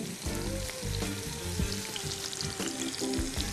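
Boiled peas frying in melted butter in a pan: a steady, busy sizzle with crackles and the scrape of stirring, close up and without talk.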